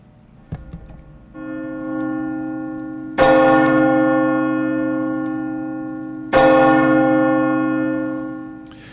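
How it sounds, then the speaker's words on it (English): A church bell tolls in memory of Flight 93 on its anniversary. There are three loud, ringing strikes spaced about three seconds apart, each decaying slowly with a long humming resonance, and no voices. "at this time, 12 years ago, Flight 93 crashed in Pennsylvania, and so we will toll the bell 3 times"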